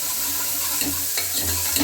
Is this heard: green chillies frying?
yes